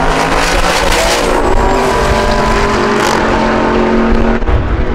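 Loud, continuous roar of V8 race cars running at the LS Fest drag racing event in Las Vegas, engines revving and passing close by with no talk.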